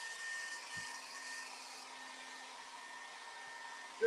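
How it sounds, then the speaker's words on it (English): A hairdryer runs steadily, a moderate whirring rush with a faint tonal hum, blowing over spirit-based finish on a wooden piece to dry it; no talking. "Again, quick blast with the hairdryer."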